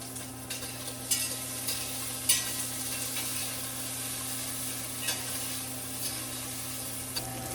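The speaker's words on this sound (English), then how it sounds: "this bacon is crisping up really quickly" Bacon crisping in a pan on the stove, a faint, steady sizzle with occasional light taps and scrapes and a constant background hum, no voices.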